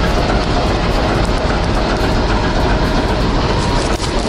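A single-car passenger train moving near Ulanovo station in Russia, a steady loud rumble of wheels on rail with faint clickety-clack, running continuously throughout without any voices.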